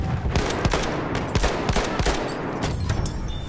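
Rapid automatic gunfire in the video game Battlefield 1, a dense string of loud, close shots with a few sharper reports mixed in, continuous throughout.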